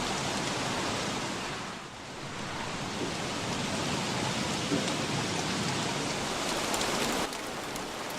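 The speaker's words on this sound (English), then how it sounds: "I'm trying to get out of the rain too" Rain falling in the survival game Don't Starve, a dense steady hiss of drops with a slight dip partway through, even and moderately loud, no speech.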